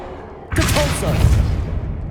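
Depulso force spell cast in Hogwarts Legacy, a sudden loud booming thrust after a moment of quiet, followed by a dense rumbling whoosh that holds until the end.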